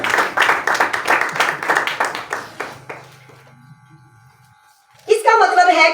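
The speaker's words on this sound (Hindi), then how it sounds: "खुदा के जलाल के लिए जोरदार तालियां" A church congregation at a Sunday service claps loudly for about three seconds, the claps falling into a rough rhythm, before fading to a low hum and a voice speaking.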